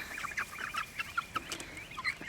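Several chickens cluck in short, scattered bursts, close by, with soft farmyard background noise.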